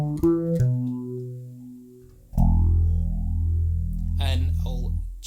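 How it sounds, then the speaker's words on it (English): Bass notes run through a Boss PH-3 phase shifter pedal with tap tempo, a loud sustained swirling phased tone that shifts rhythmically after a brief opening of short plucked notes. "we use the Boss PH3 Phase Shifter"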